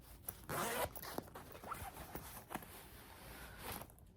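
Zipper on a new red Clinique x Kate Spade New York cosmetic makeup purse with a red zipper, pulled in a few quick rasping strokes, close and fairly quiet, with soft handling rustle.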